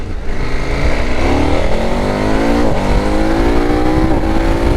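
A 2021 KTM Super Adventure motorcycle pulling out onto a road near the M25, its engine loud and close, revving up through rising pitch with a gear change midway.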